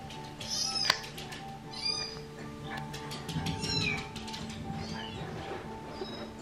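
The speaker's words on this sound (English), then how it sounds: "there's a cat on TV making noises, and Otis thinks it's like..." A cat meows a few times at moderate distance, slightly tinny as if through a speaker, over a steady background hum.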